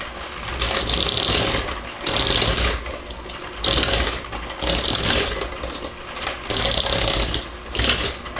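An electric mixer creams butter and brown sugar for graham cracker dough, whirring in steady bursts with brief dips between them, close and fairly loud with no talking.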